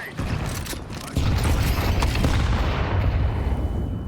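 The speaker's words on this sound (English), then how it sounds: "Grenade out. Grenade." Grenade blast in a first-person shooter match, a heavy low rumbling boom that swells after a second and holds loud and dense, with gunfire-like crackle mixed in.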